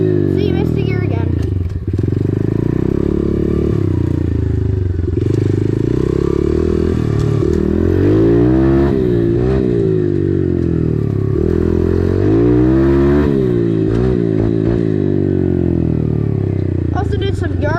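A motocross dirt bike engine revving hard close up as the rider accelerates and shifts through the gears, with repeated rising and falling pitch sweeps and brief drops between gears, plus occasional clatter.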